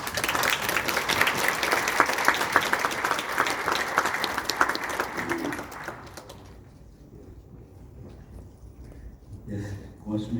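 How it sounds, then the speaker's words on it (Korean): Strong applause fills a church seminar hall as a guest lecturer is welcomed, dense clapping for about six seconds before it stops and quiet murmurs and a voice follow. "이충국 박사님 이쪽을 힘찬 박수로 환영하겠습니다"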